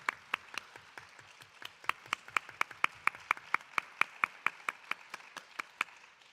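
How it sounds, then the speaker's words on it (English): A small audience applauds student school board members at a school district electors meeting, a sparse run of single claps spaced out steadily, fairly faint and in a quiet room. "Let's give those leaders a round of applause."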